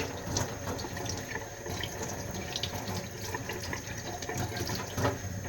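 Steady running water from a tap splashes into a sink, a continuous rushing hiss with small gurgles, fairly close and unbroken.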